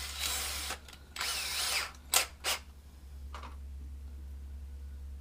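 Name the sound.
power drill driving deck screws into boat deck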